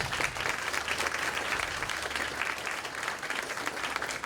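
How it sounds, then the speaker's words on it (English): Steady applause from a kindergarten celebration audience at an elementary school, honoring the class top scorers; dense, even clapping holds at a moderate level throughout without a break. "Give them a round of applause."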